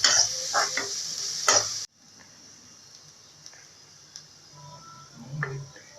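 Onions sauté in hot oil in a pan for a Tamil raw plantain fry, giving a bright, steady sizzle with stirring scrapes for the first two seconds, then settling to a softer, quieter frying hiss with occasional clinks.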